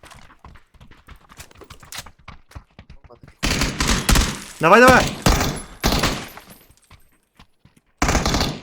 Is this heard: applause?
no